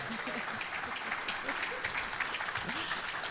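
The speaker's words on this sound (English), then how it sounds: "So give him a round of applause." A Rotary club conference audience applauds, a moderately faint, even patter of many hands lasting a few seconds, with some murmuring voices mixed in underneath.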